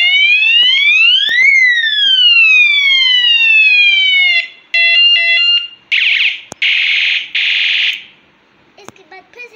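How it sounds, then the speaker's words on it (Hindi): An electronic alarm sounds loud and close while it is being set: a rising and falling warbling tone, then a string of sharp repeated beep bursts that stop abruptly, followed by faint clicks. "अरे ये इसका अलार्म है, ये सेट कर रहा हूँ मैं।"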